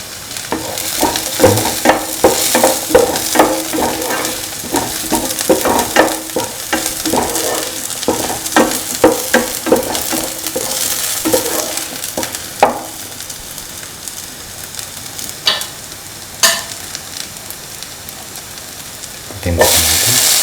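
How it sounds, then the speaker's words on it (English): Green chili tossed into a hot pan for a bitter gourd tamarind stew, loud sizzling and frying with stirring scrapes that fade toward a quieter hiss, and a brief burst near the end. "Now putting the green chili."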